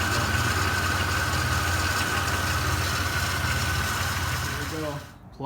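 A 2002 Chevy Malibu idles during an axle seal replacement. Its engine gives a loud, steady rumble with a constant low hum, then drops away near the end as it shuts off and a voice begins to speak.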